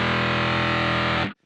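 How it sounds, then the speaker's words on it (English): Electric guitar through an MXR Sub Machine fuzz pedal with the fuzz knob set between 10 and 11 o'clock, one loud sustained distorted chord ringing alone before cutting off abruptly. "I like the fuzz setting where I have it in between 10 and 11 o'clock"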